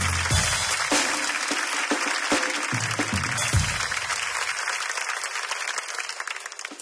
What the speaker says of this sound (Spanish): Un fuerte aplauso para mi amigo Calistenio y su familia